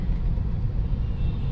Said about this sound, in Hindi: चलिए जी चल पड़ी है गाड़ी हमारी